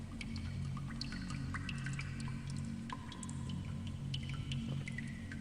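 Slow, irregular drips and wet squishes sound faintly over a low rumbling bed, a dripping effect in a tabletop fantasy live-play session with no voices over it.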